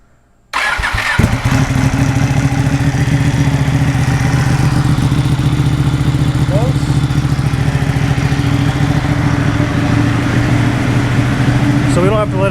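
A Ducati Panigale motorcycle engine fires up after a moment of quiet, then holds a loud, steady idle with a deep, even throb close by for the rest of the stretch.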